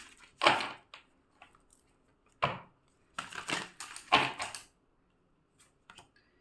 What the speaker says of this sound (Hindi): Let's pull some more cards.